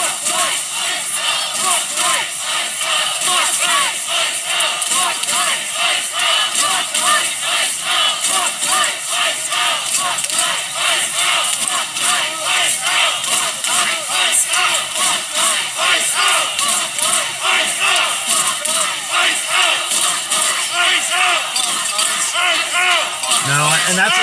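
A dense, loud protest crowd in wintry Minneapolis shouts and roars continuously, a steady wash of many voices with no single voice standing out.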